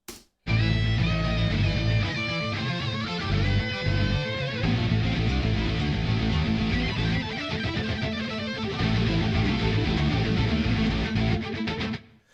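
Two distorted metal lead guitar lines from the Damage Guitars 2 instrument play together, one panned hard left and one hard right, forming a loud, dense, continuous riff that runs for about twelve seconds after a short silence.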